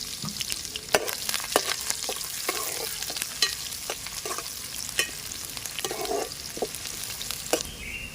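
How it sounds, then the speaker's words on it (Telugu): Onion frying in hot oil with mustard and cumin seeds, a steady crackling sizzle with frequent spatula knocks and stirring scrapes in the pan. "ఆవాలు జీలకర్ర వేగిపోయినాయి కాబట్టి ఉల్లిగడ్డ వేసుకుంటున్నాం"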